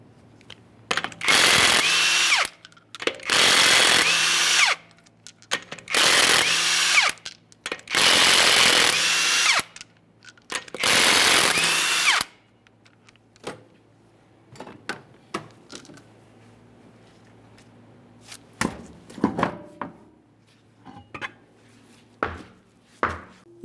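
A power impact wrench zips six 21mm lug nuts off the wheel of a Ford F-150, five loud buzzing bursts about two seconds apart, followed by softer clinks and rattles of the loosened nuts, with no talking.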